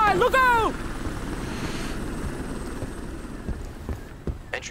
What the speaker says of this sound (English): Specialist chopper on approach.